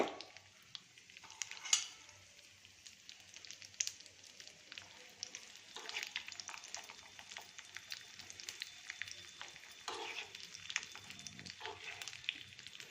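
Raisins, cashews and almonds fry in ghee for moong dal kheer, a soft continuous sizzle with faint crackles and occasional stirring scrapes, close but quiet, with no talking.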